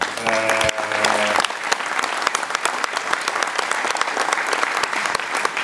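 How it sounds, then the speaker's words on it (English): An audience breaks into sustained clapping for an airline's chief engineer standing in the room, a brief tonal chime sounding near the start before the applause carries on evenly. "I'd like to give him a round of applause since he's standing there"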